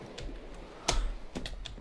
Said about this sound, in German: ich bin mir irgendwie gewöhnt, immer so auf die Tastatur zu schlagen